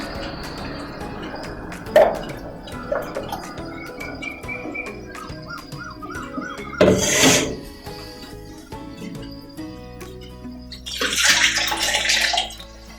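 Water poured into a pan of ground horse gram paste in a couple of splashing bursts, with clinks of utensils and birds chirping in the background.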